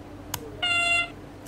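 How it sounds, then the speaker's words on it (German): A second, higher-pitched train horn of a Stadler GTW railcar in Train Simulator 2015 sounds one steady harmonic blast of about half a second, loud and alone after a brief click. "Und das ist dann noch das zweite Horn."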